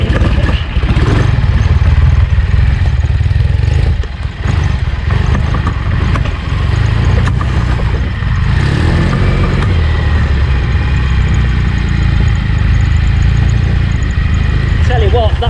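Trials motorcycle engine revving and idling with a steady clattering mechanical drone throughout, loud and close, while people talk over it.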